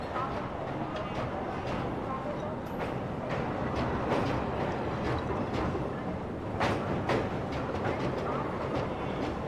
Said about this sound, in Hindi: जा रही है लखनऊ की ट्रेन